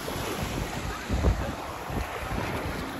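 Sea waves wash onto a beach shoreline in a steady, close surge, with one fuller wave swell midway, all under heavy wind buffeting the microphone; no voices.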